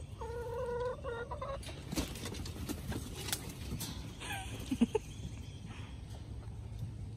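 Backyard chickens cluck and chatter close by while pecking at overripe strawberries, in short bursts of calls over a quiet outdoor background with little talk.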